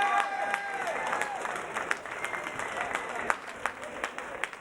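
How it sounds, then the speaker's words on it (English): A crowd at a fight event cheers and applauds the winner, a busy wash of clapping and voices with sharp individual claps popping out, while someone talks over it. "let me hear it for Denniston, Mad Max Sutherland."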